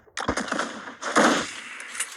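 Rapid automatic gunfire in a video game rattles in two close, loud bursts of sharp repeated shots, separated by a brief pause, with no talk over them.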